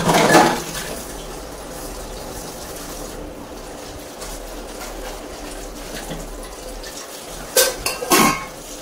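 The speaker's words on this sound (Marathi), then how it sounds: "मी जी काय माझी भांडी आहे ती धुवून घेते" Dishes and utensils are being washed at a home kitchen sink, with steady running water and occasional clinks and clatters of pots and metal utensils, growing louder in a couple of brief bursts near the end.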